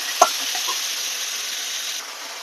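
Chicken and potatoes fry in hot oil with a steady, close hiss, a sharp clack of a utensil at the start and light scraping as the pieces are stirred.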